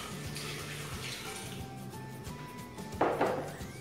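Boiling water poured over pineapple gelatin powder in a kitchen, a steady soft pouring stream with a louder splash near the end and a faint clink of dishes.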